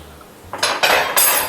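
Metal cutlery clatters against dishes in a kitchen during preparation of a tuna spread, two or three bright, loud jangling bursts close by, with no voices.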